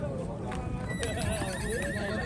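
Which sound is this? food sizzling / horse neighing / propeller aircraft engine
horse neighing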